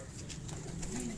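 A slate-grey pigeon coos on a rooftop loft in Kasur, a soft throaty rolling call over steady outdoor background noise.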